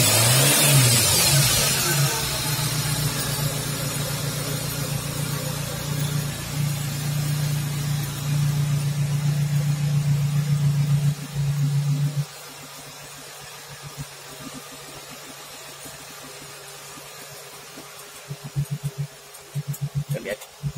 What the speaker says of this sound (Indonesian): Sekarang mesinnya sudah hidup.